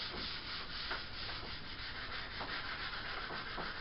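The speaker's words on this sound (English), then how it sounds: "if you want to hand sand it a little bit, like I like to do" Wood furniture being hand sanded to strip paint: steady, close rasping strokes of sandpaper with a soft rhythmic push-pull, continuous and fairly quiet, no voices.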